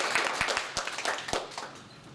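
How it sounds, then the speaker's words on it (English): A small classroom group claps for a student after a persuasive speech, a light, sparse patter of a few hands with distinct individual claps standing out, fading toward the end. "let's clap for Austin, everybody."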